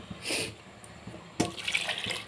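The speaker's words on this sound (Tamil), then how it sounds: "நான் ஒரு 2 சொம்பு தண்ணி சேர்த்திக்கிறேன்." Water poured from a vessel into a clay pot of fish gravy, a steady splashing pour, a short pause, then a louder second pour with bubbling, close by and alone without talk.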